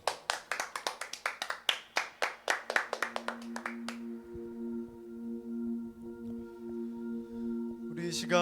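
A church congregation claps in quick, steady rhythm during Sunday worship for about four seconds. The clapping then stops, leaving soft sustained keyboard tones and a final swell of sound.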